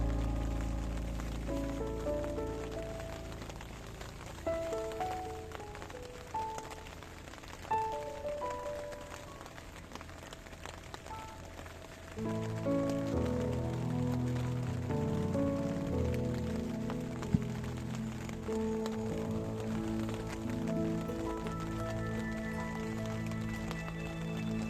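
Steady rain falls outdoors beside a Fenland pike-fishing swim, a quiet continuous patter on surfaces that thickens partway through, with low tonal sounds layered underneath.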